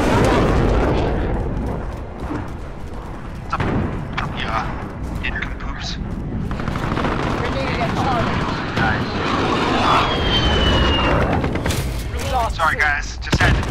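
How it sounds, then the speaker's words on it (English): An enemy VTOL jet roars over a Modern Warfare multiplayer match amid booming explosions and gunfire, a loud dense rumble that persists throughout while players talk over it. "Enemy VTOL jet in the AO."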